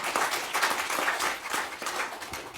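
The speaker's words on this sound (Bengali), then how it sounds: "ওদের জন্য জোরে একটা করতালি হয়ে যায়।" An audience claps for a folk ensemble of percussion, ukulele, dotara and keyboard players at a live stage program. The applause is a dense, steady patter of many hands throughout, moderately loud and without any voices.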